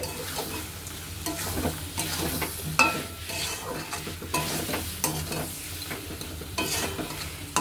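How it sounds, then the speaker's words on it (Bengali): Diced potatoes sautéing in a pan of spice masala for a jackfruit and prawn curry: a steady sizzle runs throughout, broken by repeated scraping stirs of a spatula against the pan, close and moderately loud, with no talking. "এবার আমি এর মধ্যে আলুটা দিয়ে আবার দশ মিনিট ভালো মতো কষিয়ে নেব"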